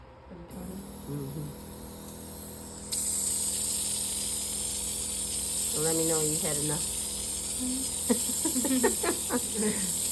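Steady broadband hiss of a spray bottle misting toner continues for several seconds, close by, with a person talking briefly over it.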